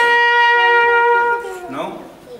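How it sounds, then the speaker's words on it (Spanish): An open trumpet without a mute plays one steady, bright, loud note for just over a second before it breaks off, and a brief voice follows. "La trompeta solo así, normal, suena así."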